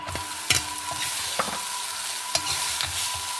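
A spoon stirs cooked rice into a sizzling vangi bath spice mixture in a pan, with steady frying hiss broken by repeated scraping strokes, close and without any voices.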